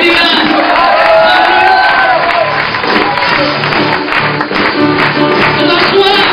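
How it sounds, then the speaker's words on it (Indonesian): A church congregation cheers and shouts during an anniversary worship service, a loud, dense crowd roar with whoops and scattered clapping sustained throughout, voices mixed in. "Berikan sorak-sorai bagi dia"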